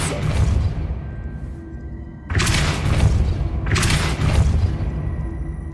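Repulsor spell blasts in Hogwarts Legacy, two loud, sudden bursts of wide rushing, crackling force that ring out and fade slowly, preceded by the tail of a similar blast.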